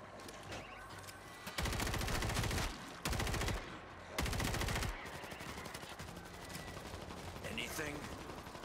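Gold SMG fire in the zombie shooter World War Z: Aftermath, three loud close bursts of rapid automatic shots broken by short gaps, then a quieter stretch of game combat noise.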